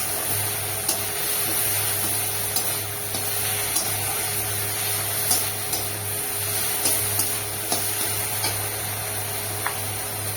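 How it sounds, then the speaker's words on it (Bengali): Spice paste fries in a pan as masala for a potol and shrimp dish, giving a steady, hissy sizzle at moderate level with small crackles and a low hum underneath. "দেখুন মশলাটা প্রায় কষানো হয়ে গিয়েছে।"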